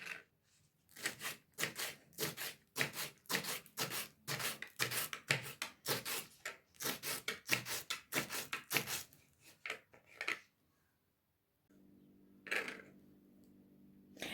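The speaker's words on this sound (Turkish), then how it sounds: "Dereotunu da ince bir şekilde doğruyorum arkadaşlar." A knife finely chops dill rapidly on a board in quick, steady strokes for about ten seconds, then pauses before a few final cuts.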